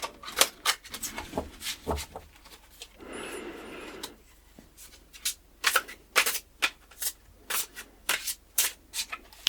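Tarot cards being shuffled up close in quick papery riffles and taps, coming in bursts with short pauses, with a longer soft shuffle in the middle.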